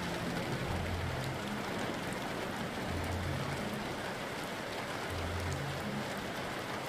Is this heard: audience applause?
no